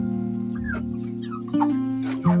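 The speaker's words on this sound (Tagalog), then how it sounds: "Yung mga alaga kong manok sa bahay, alaga namin ng manok" Backyard chickens, birds weighing about four kilos, cluck and croon nearby in a string of short, close calls over a steady low hum.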